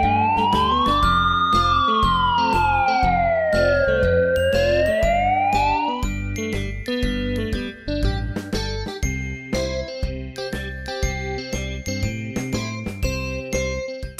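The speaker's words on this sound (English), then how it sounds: "Police car." A police car siren wails loudly in a rising and falling sweep for about six seconds, then gives way to bright jingling, tinkling chimes and dings over a steady backing beat.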